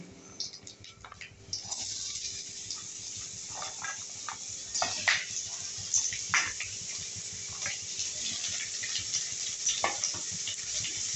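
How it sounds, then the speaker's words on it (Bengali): Ginger fries in a pan with beetroot and carrot stirred in, a steady sizzle broken by scraping and clattering stirs that grow busier after the first couple of seconds. "আমার আদাটা যখন একটু ভাজা ভাজা হয়ে গেছে তখন আমি এতে বিট আর গাজর দিয়ে দেবো"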